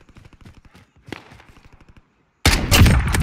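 A loud, dense burst of video game gunfire erupts abruptly after a stretch of quiet clicking and ticking, sustained through the end of the moment.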